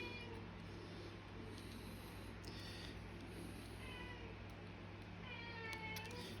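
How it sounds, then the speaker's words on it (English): A house cat meows several times at a distance, faint drawn-out cries over a steady low hum in a quiet room. "My apologies for the cat."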